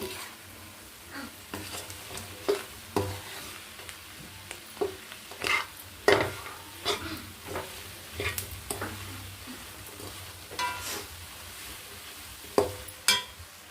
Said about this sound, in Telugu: చికెన్ ముక్కలు వేసుకొని ఇప్పుడు కలపాలమ్మా బాగా, కొంచెం అలా కలుపుకోవాలి